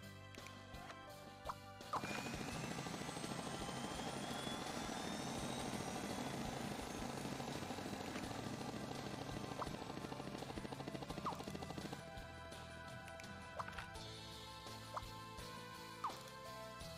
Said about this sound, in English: fly him up with your helicopter seat thingy